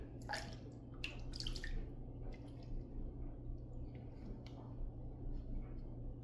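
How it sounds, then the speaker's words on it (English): Water runs and drips faintly at a sink during a post-shave rinse, a soft steady trickle with a few brighter splashes and no talk. "let's do a second rinse, see how we did"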